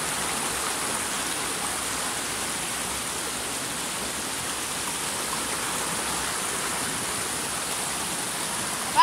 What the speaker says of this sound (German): Und hier läuft das ganze Wasser.